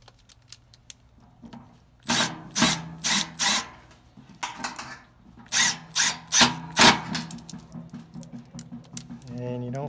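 Screws are run in by a power driver on an X-13 blower motor in an ICP air handler, several short whirring bursts close by, some in quick succession, with quiet gaps between.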